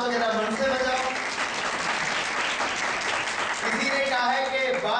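A crowd at a Hindu bhajan sermon claps together, sustained and fairly loud, while a voice sings or speaks through it and the clapping swells toward the end.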